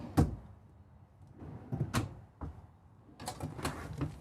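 Sock drawers in a Renegade Valencia 38RB motorhome sliding and bumping, a few sharp knocks and scraping clatters close by at quiet level, with no speech.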